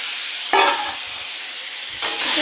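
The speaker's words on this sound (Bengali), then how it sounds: "এই তেলে দিয়ে দেবো কালো জিরে ফোড়ন, আর দিয়ে দেবো টুকরো করে রাখা আলু।" Black cumin seeds and chopped potato pieces hit hot oil in two sudden bursts of sharp sizzling, the second swelling into a sustained fry, close and loud with no talk.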